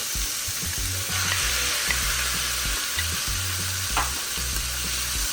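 Ackee dropped into a hot pan, where it fries with a continuous close sizzle and a few scraping stirs over a faint low hum, no talking.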